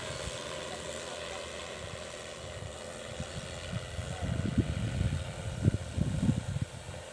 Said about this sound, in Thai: โดรนดำเนินการ